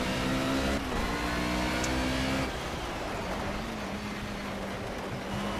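Mercedes 190E engine in Project CARS droning at steady revs, a near tonal hum that holds, then dips in pitch and settles to a lower steady note after a brief drop in level.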